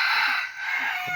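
A newly caught wild junglefowl rooster (labuyo) crows once, loud and close, a single drawn-out call filling the whole moment.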